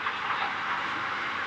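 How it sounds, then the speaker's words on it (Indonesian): Gajayana sleeper passenger train pulling out of Madiun station, a steady broadband rumble and hiss of rolling carriages, continuous and fairly close with no clear wheel clicks. "Keretanya baru saja berangkat dari stasiun Madiun."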